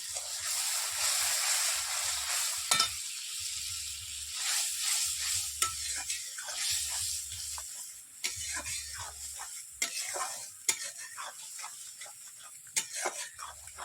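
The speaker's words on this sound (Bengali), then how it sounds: "একটু ভালো করে নাড়তে হবে" Yogurt is stirred into a katla fish curry in a pan, giving a soft simmering sizzle broken by repeated scraping strokes and light clinks of a spoon against the pan, close by and without speech.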